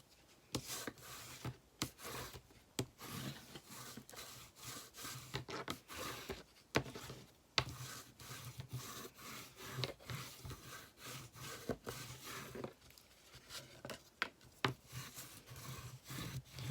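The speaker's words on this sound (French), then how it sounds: "J'entends que quand je frotte comme ça avec mon plioir, qu'il y a des bulles d'air qui éclatent." A bone folder rubs firmly over a freshly glued paper card, making repeated close scraping strokes in an uneven rhythm with short pauses between passes.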